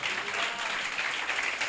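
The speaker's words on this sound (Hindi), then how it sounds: "ताली बजाओ भाई के लिए।" A crowd at a gathering for a spoken message applauds in a continuous, fairly dense patter of hand claps from many people, steady and unbroken.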